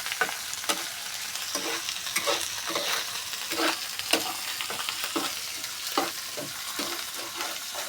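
Spice paste for a meat curry fries and is stirred steadily in a pan, with a constant close sizzle broken by repeated scraping strokes of the spoon, no voices present.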